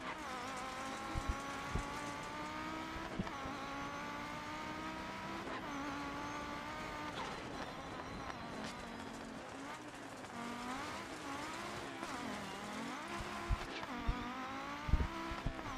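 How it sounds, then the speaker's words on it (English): A race car on a high-elevation mountain hill climb road, bogging from lost power at altitude, drones steadily with a rising and falling engine tone through shifts and corners, heard from close by. "The car is really bogging out now that we're getting high elevation, guys."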